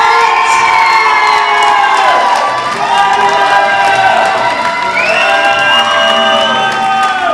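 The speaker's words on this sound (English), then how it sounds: "It's a noisy bunch down there." A large live crowd at a Rose of Tralee selection night cheers, shouts and whoops continuously, loud and close, with children's shrill shouts rising through the roar and no voices speaking over it.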